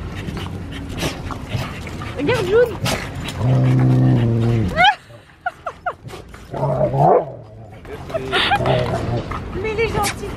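Dogs playing, with heavy panting, whimpers and yips in bursts, close by and loud, while people talk over and between the sounds.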